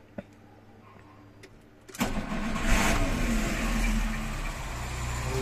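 A car sits quiet except for a faint click, then its engine cranks and catches. It settles into a loud, harsh running roar with belt and pulley noise grinding close by.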